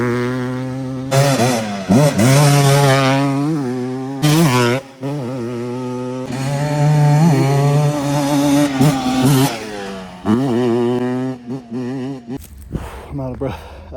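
A Yamaha YFZ quad on a timed lap at Prospect Springs revs hard and close, rising and falling through repeated gear changes with brief drops between bursts, then settles toward idle at the end.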